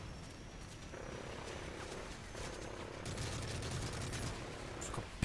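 Bursts of rapid gunfire crackle over a continuous droning background in Call of Duty: Modern Warfare 3, firing in clusters that grow denser toward the end.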